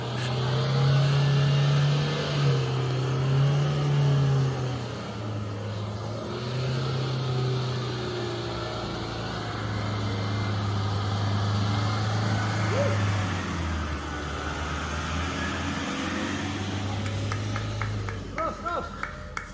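Traffic hums along a road as cars pass by, a steady engine rumble with one vehicle's tone rising and falling, heard from close by; the rest of the road noise blends into a continuous wash.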